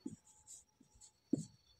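A pen moves across paper while a math problem is worked out, giving a few short, faint scratching strokes spaced across under two seconds, close and quiet.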